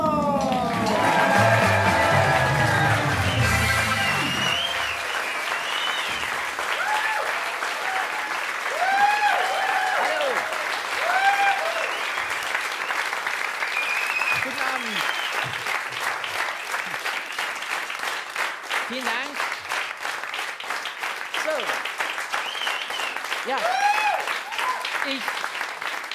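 A television studio audience greets comedian Olaf Schubert with loud, sustained applause that continues for a long stretch, with rising cheers and voices mixed in and musical tones playing underneath.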